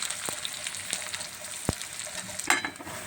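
Onion frying in a pan and being stirred, a faint, soft sizzle with occasional sharp clicks and scrapes of the spoon against the pan, quiet and close with no talking.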